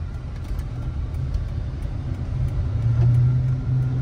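Steady low engine rumble from a Dodge Charger 5.7 cruising on surface streets, heard from inside the car, rising slightly toward the end.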